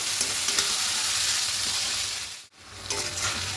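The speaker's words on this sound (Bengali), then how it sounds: "এবার ম্যারিনেট করা চিকেনটা এখানে দিয়ে দেবো খুব ভালো করে মিশিয়ে নেব" Marinated chicken for doi chicken kosha fries in a pan with a steady, close sizzle and occasional stirring. There is a brief dip in the sound before the sizzle resumes.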